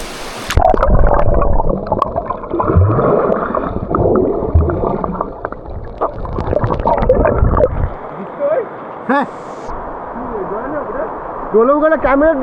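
A GoPro camera without its waterproof cover moving underwater in a village stream, with muffled gurgling and sloshing up close and bubbly bursts, while people talk nearby and some voices come through faintly.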